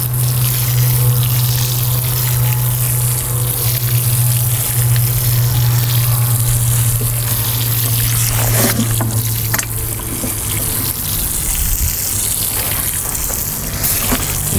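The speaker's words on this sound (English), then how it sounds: "Now we'll water them in." Water sprays steadily over newly planted turnips in a garden bed, a continuous hissing rush with a low mechanical hum underneath, close and loud throughout.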